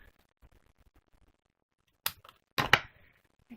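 Scissors snip through card stock while a stamped card is assembled, a few sharp close cuts bunched near the end after a quiet stretch of faint handling ticks.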